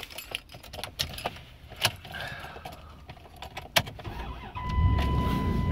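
A 2000 Dodge Dakota Quad Cab SLT 4x4 with the 5.9 V8 is started up; clicks and key jangles come first, then the engine catches near the end and settles into a steady close idle.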